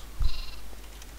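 A sheep in a single-player game gives a single short bleat, fairly close and clear over a low steady background hum.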